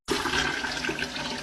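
A toilet flushes in one sudden, loud rush of water that starts abruptly and pours on steadily, close by and alone with no voices.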